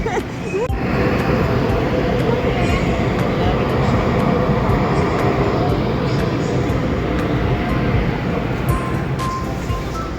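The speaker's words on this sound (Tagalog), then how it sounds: "Here comes the train." A train arriving at a station in Taiyuan, a loud continuous rumble and roar filling the whole stretch, with a sharp bang near the start and faint high squeals.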